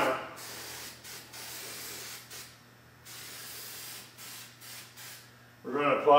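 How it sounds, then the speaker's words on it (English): Repeated close hissing bursts of an aerosol can of high-copper weld-through primer, starting and stopping several times with short pauses between, during floor panel replacement. "We're going to apply a weld through primer."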